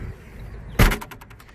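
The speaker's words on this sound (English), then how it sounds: "that noise is basically the license plate holder" The license plate holder on a Volkswagen Passat B4 VR6 GLX Variant gives one sharp loud bang, then a brief burst of quick, fading rattles against a quiet background.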